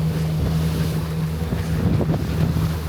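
Strong storm wind roars across the microphone on a boat at sea, with a low steady engine drone underneath, constant and loud throughout, no voices.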